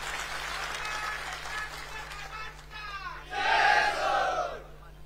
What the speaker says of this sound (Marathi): याच्यासाठी जरा जोरदार टाळ्या मारून त्यांचं अभिनंदन